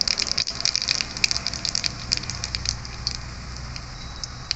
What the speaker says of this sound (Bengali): জিরাটা ফুটে গেছে